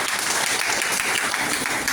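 Audience applause fills the space: a dense, steady wash of many hands clapping together, loud and continuous from start to finish, with no voices over it.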